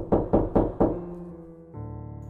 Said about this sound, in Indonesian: dia ketok-ketok pintu tuh